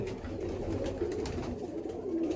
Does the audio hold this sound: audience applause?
no